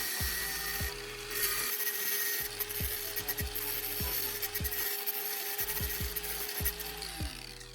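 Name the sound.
angle grinder shaping edges of a metal disc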